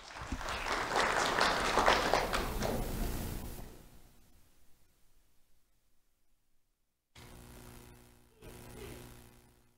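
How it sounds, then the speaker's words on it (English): An audience at a school awards ceremony honoring two second-grade students breaks into loud, dense applause. It fades over a few seconds into quiet, followed by faint room noise. "Let's have a round of applause for Logan and Leandro."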